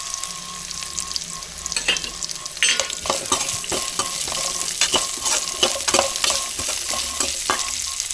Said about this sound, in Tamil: மிளகு ஜீரகம் சோம்பு பட்டை லவங்கம் தனியா இது எல்லாத்தையும் ஆட் பண்ணி வாங்கி விட்டுக்கணும்